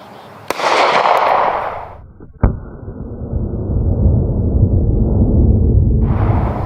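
Two sharp cracks from a PSR35 rifle, the first followed by a long whooshing rush and the second by a sustained roaring hiss, both loud and close with no talk.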